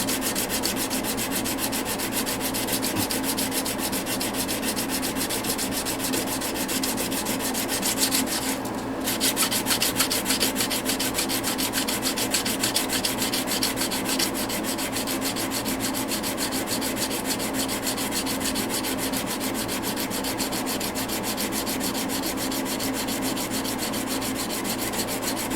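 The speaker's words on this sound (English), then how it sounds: "Okay, I got it all hand sanded up there." Hand sanding wood with 320 grit sandpaper, a steady rhythmic scratchy rubbing that continues close and loud throughout with no talking.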